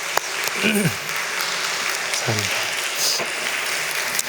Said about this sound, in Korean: 우리 근처에 계신 우리 아버님들을 위해서 함께 박수 한번 치겠습니다.